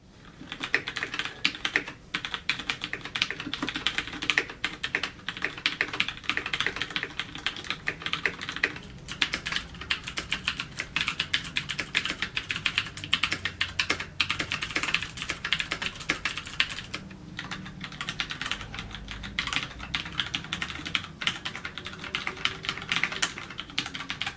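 Steady, dense typing on a mechanical keyboard with Cherry MX switches, heard from about half a metre away; continuous rapid clicking keystrokes with brief pauses, no talking.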